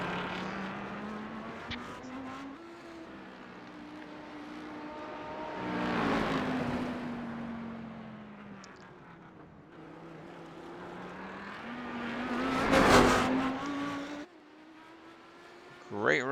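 An Audi GT3 race car at Detroit's Belle Isle circuit, its engine note rising through the gears and sweeping past with a loud surge near the end, while a commentator talks over it throughout.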